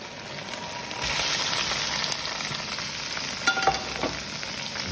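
Crayfish frying with garlic in a pan, a steady bright sizzle with stirring and a few clinks, close and loud with no talking.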